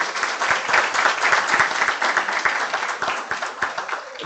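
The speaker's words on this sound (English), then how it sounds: "Please give him a huge round of applause." A hall audience at a talk with exam toppers in Hyderabad breaks into a loud, sustained round of applause for an introduced speaker. The clapping is dense and even and carries on without talk.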